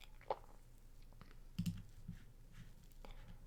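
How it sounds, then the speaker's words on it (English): An opponent typing on a computer keyboard during an online card game match, a few faint, scattered key clicks alone with quiet background hum. "Opponent's typing. What are you typing?"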